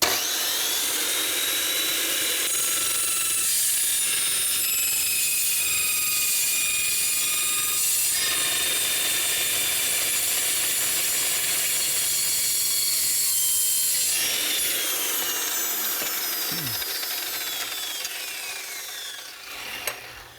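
A continuous harsh saw cutting through material runs steadily for nearly the whole stretch, loud and close, then tapers off near the end.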